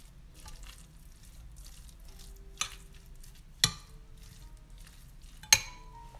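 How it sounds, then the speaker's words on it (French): Batbout filling mixture stirred in a bowl with a utensil, producing faint soft scraping under quiet room noise, broken by three sharp clinks of metal against the dish. "Et je vais mélanger la farce"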